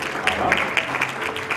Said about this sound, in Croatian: Aplauz za kolegu Ivana.